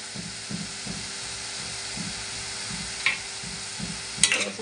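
Turmeric and Malvani masala sauté in hot oil with onion and tomato, a soft steady sizzle and hiss with faint rhythmic stirring strokes and a couple of brief clinks, quiet and without talk.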